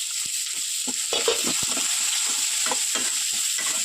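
Two medium chopped onions fry in a pan, a steady sizzling hiss broken by irregular scraping stirs that run close and clear throughout.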